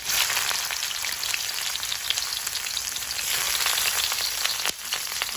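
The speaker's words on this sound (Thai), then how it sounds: "ใส่น้ำมันแล้วเราก็จะเจียวหอมก่อน" Shallots fry in hot oil in a pan for Thai stir-fried jackfruit with pork, giving a steady, dense sizzle and crackle that holds at an even level throughout with no voices.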